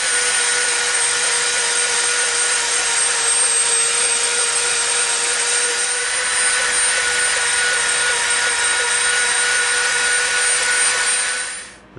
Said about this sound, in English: we're going to start dremeling this whole edge down to a bevel